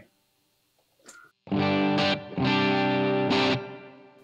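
Electric guitar played through Helix Native amp software with reverb, a few loud distorted chords struck in bursts after a quiet pick noise, each held briefly with a reverb tail.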